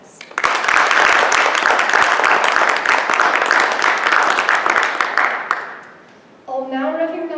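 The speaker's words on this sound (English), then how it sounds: "big round of applause for everyone who's helped make this year a success" An audience at a National Honor Society ceremony breaks into loud, dense applause that holds for several seconds and then fades out. A speaker's voice follows.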